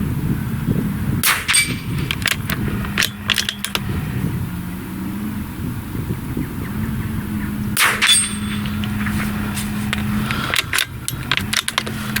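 A .22 air rifle fires at a target outdoors while hunting along hedgerows, giving a couple of sharp, fairly close cracks over steady background noise, with no talking.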